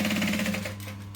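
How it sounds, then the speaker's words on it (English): Sewing machine stitching a seam in upholstery-weight velvet for a clutch bag, a short rapid run of needle strokes that slows and trails off within about a second, close and alone. "we're just going to do a couple of stitches, back stitch, and then stitch down"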